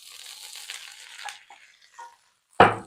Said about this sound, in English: Now we're going to put in the vegetables.